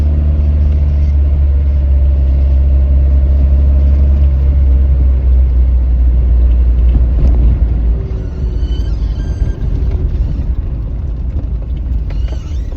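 A 1969 Lotus Elan S4 fixed-head coupe driving, its engine a loud, steady low rumble at constant speed, then changing pitch as it slows and shifts, with mechanical rattles near the end.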